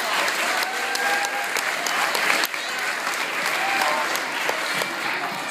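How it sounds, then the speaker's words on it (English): An audience at an evening school choral concert applauds, steady dense clapping filling the hall without letup, with scattered voices mixed in. "Give them a little big round of applause."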